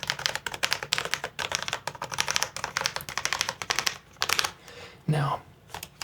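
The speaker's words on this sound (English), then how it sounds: "this is kind of what your basic keyboard is gonna be" Rapid clacking of a basic, long-uncleaned computer keyboard being typed on, dense irregular keystrokes close up and fairly loud, with a brief soft voice near the end.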